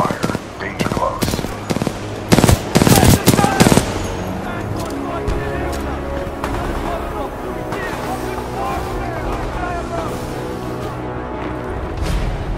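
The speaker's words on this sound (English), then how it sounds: "Commencing supporting fire." Supporting gunfire in the Titanfall 2 video game, loud rapid bursts of automatic fire early on over a constant heavy mechanical rumble, giving way to sustained battle noise, with speech heard in the mix.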